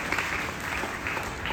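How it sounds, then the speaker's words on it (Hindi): Audience applause fills a mental health day closing ceremony, a dense, steady wash of many hands clapping at moderate distance, continuous and fairly quiet throughout the short stretch with no talk over it. "एक बार जोरदार तालियां उस हेल्पलाइन के लिए।"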